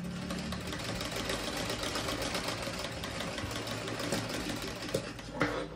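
A sewing machine stitches along a folded strip of fabric cut 3 by 9 inches, running in a steady continuous whir with faint rattling, close and alone.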